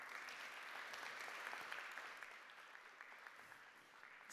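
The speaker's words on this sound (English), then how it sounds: "Big round of applause." Applause from the audience at a 2017 UN Office on Drugs and Crime event, a steady wash of many hands clapping heard faintly and at a distance, easing slightly toward the end.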